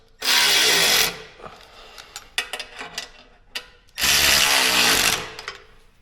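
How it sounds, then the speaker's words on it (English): Power tool tightening the lower nuts and washers on a Ducati Desert X gut guard, two loud close bursts of rapid impact ratcheting separated by quieter clicks and handling noises. "And we can come to the bottom here and tighten these."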